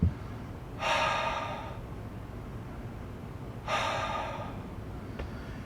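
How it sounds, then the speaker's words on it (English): Heavy breathing from someone lying on their back after a dumbbell and Turkish get-up workout: two long, audible breaths several seconds apart, close and alone over steady room hiss. "And just tune into that breathing. It might be heavy,"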